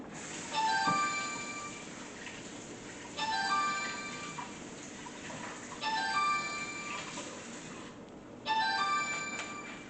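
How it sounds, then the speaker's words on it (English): A mobile phone ringtone rings in a home kitchen, a repeating melodic electronic tune in four bursts about every two and a half seconds, clear and moderately loud over faint room noise. "now that's my phone. No one ever calls me."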